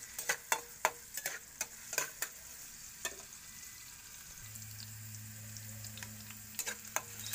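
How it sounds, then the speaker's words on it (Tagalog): Onion and garlic sauté in hot cooking oil for a Filipino sardines-and-egg dish. A steady close sizzle carries sharp utensil taps and scrapes, with a low steady hum joining partway through. "nilagyan na natin yung ating onion at saka yung ating garlic"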